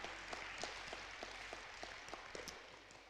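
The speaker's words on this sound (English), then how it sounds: "let's go ahead and give her a round of applause" Faint applause at an elementary school honor roll assembly, a soft scattered patter of clapping from a crowd at a distance.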